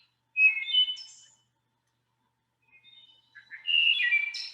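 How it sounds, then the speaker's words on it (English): Wood thrush singing: two separate fluting, whistled phrases split by a silent gap, the second longer and richer, clear and fairly close with no other sounds. "what I hear is the beautiful song of the wood thrush."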